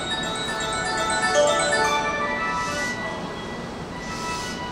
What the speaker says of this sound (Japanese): 一番乗り場に到着の電車は、関空、紀州路快速、関西空港、和歌山行きです。